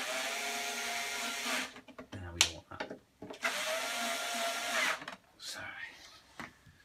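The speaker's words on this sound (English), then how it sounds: "This is a very low powered screwdriver, essentially." A low-powered electric screwdriver backs screws out of a Ninebot ONE electric unicycle during teardown, whirring in two close, fairly loud bursts separated by short clicks, handling noises and brief pauses.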